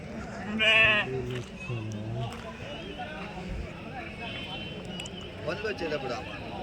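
Sheep at a Tuesday livestock market in Kadiri bleat several times, one loud close call early and others fainter, amid crowd chatter and people talking nearby.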